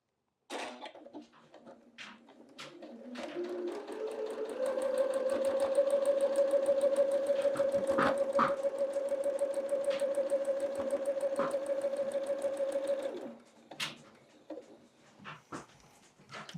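A domestic sewing machine runs a long steady stitch along a quilt block from corner to corner, a close, even mechanical whir that speeds up, holds for about eight seconds, then stops, with faint handling clicks before and after.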